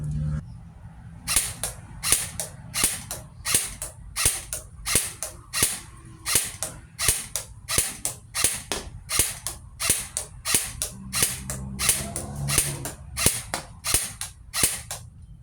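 An M4 M-Lok air gun fires a string of about 20 shots at a target, each a sharp crack with a mechanical snap, spaced in an even, steady rhythm at close range.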